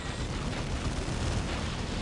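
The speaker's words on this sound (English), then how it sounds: "There was a huge explosion." A huge explosion in Dawn of War Unification during a 2 vs 2 battle with Imperial Guard, Salamanders and Tyranids, rendered as a dense, continuous roaring blast that fills the whole moment at steady loudness.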